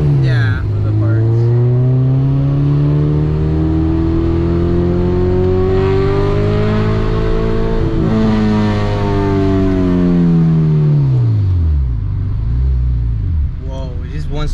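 A 1995 Honda Civic EG with a Spoon-tuned engine accelerates hard, its rising revs sweeping steadily upward before dropping at a shift, loud and close from inside the car with voices talking over it.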